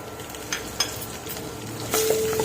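Mustard seeds spluttering in hot oil for tempering, with cumin, urad dal and fenugreek, heard as a close sizzle with scattered sharp pops and a steady frying hiss, no talking.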